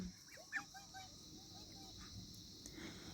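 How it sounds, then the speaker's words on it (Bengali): Several domestic ducks quack and chatter in short calls over a quiet outdoor background at Sittong, moderately close, no clear speech. "এই হাঁসগুলো এনাদেরই পোষ্য হাঁস।"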